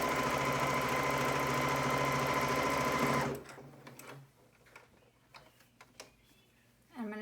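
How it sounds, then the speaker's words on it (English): A serger runs steadily and loud for about three seconds, top stitching across a face mask to form a channel, then stops abruptly, leaving faint handling clicks and rustles. "I'm going to top stitch over here to the other side where I'm going to make my other channel."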